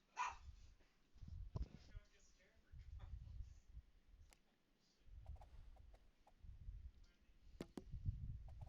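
Dog barks break out intermittently in a game world while a person reacts with startled talk, the yelps and barks fairly close, mixed with shuffling and clicking sounds.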